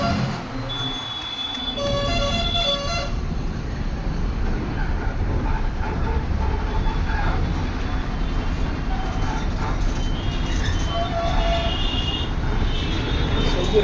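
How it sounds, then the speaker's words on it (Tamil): Steady road traffic rumbles at the Andal Kuppam checkpost signal, a continuous loud wash of engines and tyres with horn-like tones rising briefly near the start and again toward the end, no talk. "ஆண்டாளுக்கு செக் போஸ்ட்டு எவ்வளோ டிராஃபிக் ஆகுது"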